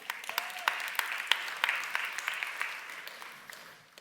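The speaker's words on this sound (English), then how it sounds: "Pity applause because one person clapped." Sparse audience applause with a few distinct claps standing out, led by one person clapping, scattered and fairly close before fading.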